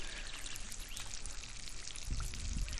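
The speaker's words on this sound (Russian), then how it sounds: "хороший рукомойничек. С кристально чистой хоперской водой" Water pouring from a camp washstand filled with clear river water from the Khoper, a steady trickling splash outdoors that grows louder near the end.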